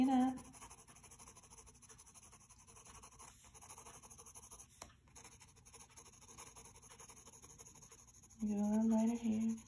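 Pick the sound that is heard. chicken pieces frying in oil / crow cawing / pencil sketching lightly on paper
pencil sketching lightly on paper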